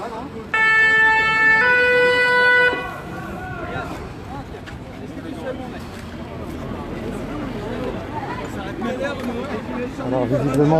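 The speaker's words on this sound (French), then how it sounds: "on entend le camion des pompiers" A fire engine siren wails loudly with a sustained two-tone blare for a couple of seconds, then recedes under a crowd hubbub during a street protest near the Invalides in Paris, with people talking throughout.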